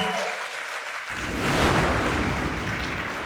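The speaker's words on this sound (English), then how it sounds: "Round of applause for him, guys." Audience applause at a live talent show grand final, a dense roar of clapping that swells sharply after a quieter start and stays loud and steady, with cheering mixed in.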